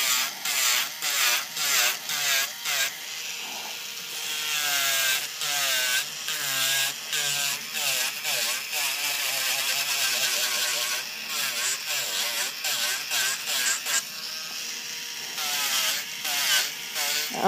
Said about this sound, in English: It really is a good drill. So you might be able to hear it